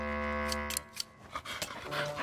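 Cartoon dogs pant in quick breathy bursts in a Mr Bean animated scene, following a sustained musical tone, with busy mid-level sound throughout.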